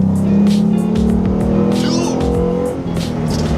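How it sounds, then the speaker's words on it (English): A car fitted with a Roush cold air intake revs and pulls hard, its engine droning loud and steady with rising intake whoosh, while an excited voice shouts over it. "the engine suck and the air in is definitely more audible."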